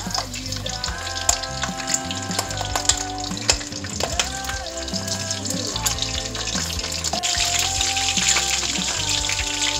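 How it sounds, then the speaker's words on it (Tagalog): Chicken feet fry in hot oil until brown, a steady close crackling sizzle with sharp pops and spits throughout, continuing without talk over it. "Ipiprito hanggang mag-brown"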